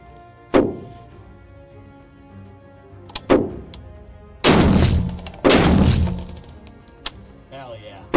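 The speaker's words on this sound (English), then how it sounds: "That's how you shoot a 50." A Barrett .50 cal Model 82A1 rifle fires several loud, booming shots with long ringing decays, close and powerful, spaced a second or two apart, with excited voices around them.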